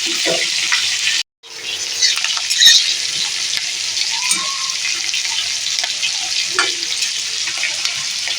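Fish roe fritters sizzle steadily in hot oil, a constant bright crackling hiss with a brief cutoff near the start and occasional small clinks of a utensil.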